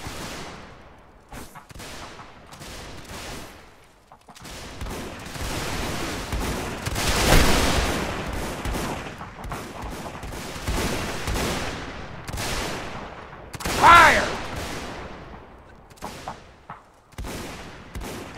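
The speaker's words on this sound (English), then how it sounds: "Firing by volley," Musket volley fire in the Mount and Blade Warband Napoleonic mod battle: ragged bursts of many shots and booming reports rolling through the field, some near and loud, others distant, without talk.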